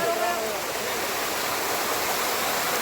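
A waterfall in a valley at Ananthagiri, Vikarabad, roars as a steady broadband rush of falling water, loud and continuous with no break.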